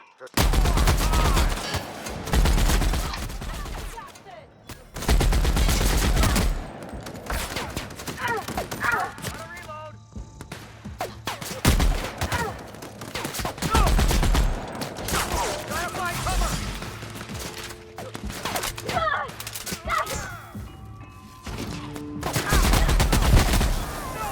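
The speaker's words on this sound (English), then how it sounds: "Who's doing that shooting?" Gunfire in the video game The Outer Worlds: repeated loud bursts of shots and fusillades in clusters, with impacts and game sounds between volleys.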